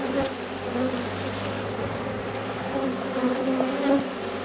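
Honeybees drone steadily and loudly at a rescued, queenless beehive, a close, continuous buzzing that holds level throughout with no voices over it.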